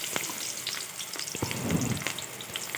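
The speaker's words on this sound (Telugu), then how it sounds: "ఆయిల్ వేడైన తర్వాత ఉల్లిపాయ ముక్కలు వేసుకోవాలి" Onion pieces fry in hot oil for tomato rice, giving a continuous close sizzle with scattered crackles and pops. A slightly louder bubbling swell comes partway through.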